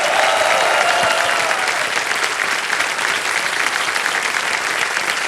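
A studio audience at Kaun Banega Crorepati claps continuously and loudly, a dense, sustained burst of applause with no speech over it.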